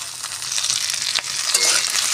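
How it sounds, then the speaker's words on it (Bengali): Potato pieces frying in oil for a white vegetarian potato curry crackle and sizzle loudly up close, with stirring scrapes and a sharper burst of spitting partway through, no voices. "আলুটা তেলের সঙ্গে ভালো করে ভেজে নেব"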